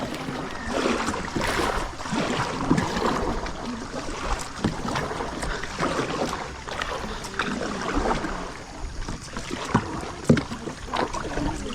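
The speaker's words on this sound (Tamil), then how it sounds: "அப்ராக்சிமேட்லி ஒரு 2 hours வந்து ரைட் பண்ணுற மாதிரி இருக்கும், கேக்கிங் பண்ணுற மாதிரி" Kayak paddling on open water during a morning outing, with steady splashing strokes and water sloshing against the hull over a continuous wash of wind and lapping water, close and moderately loud.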